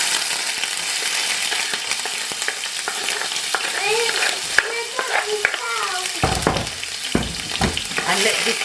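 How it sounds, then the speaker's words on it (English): Onions and assorted seasonings sauté in hot oil over high heat, a bright continuous sizzle with scraping stirs and occasional sharp clinks of a utensil against the pan, close and steady throughout. "So I'm gonna go ahead and throw in the onions and assorted seasonings."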